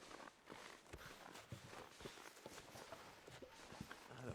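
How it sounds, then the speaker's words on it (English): Footsteps of a character crossing terrain in the survival video game The Long Dark, a steady series of soft, crunching steps at close range with no talking. "Because I hear the footsteps now"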